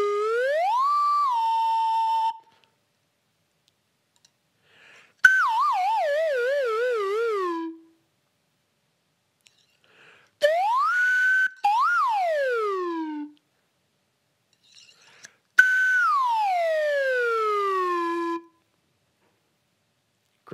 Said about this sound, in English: I'll play my real slide whistle and you use your voice to make it sound like mine